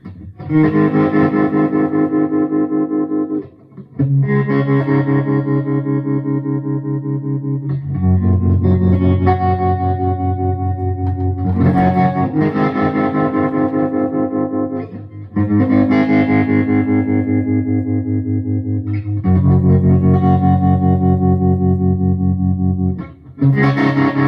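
Overdriven electric guitar chords ring out in long sustained blocks, pulsing with a wavering tremolo, each chord held for several seconds with brief gaps between.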